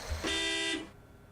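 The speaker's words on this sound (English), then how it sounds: "Car horn." A single sustained car horn blast, a steady bright honk lasting about half a second, sounds alone over a quiet background.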